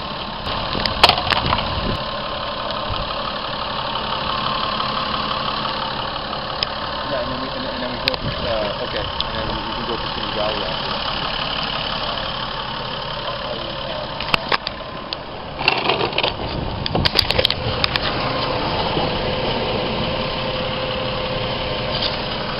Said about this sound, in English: Here's a Toyota Supra engine running.